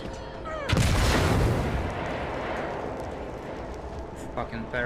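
A grenade detonates in the Warhammer 40k video game, a sudden loud boom that rolls into a long rumbling decay, with voices talking over the game sounds before and after the blast.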